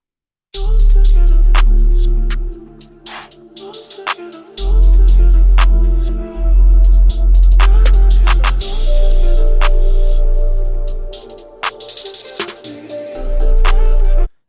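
A produced beat plays with heavy bass pulses and sharp, swelling reversed hi-hat sweeps that rise into each hit, with brief dropouts between sections.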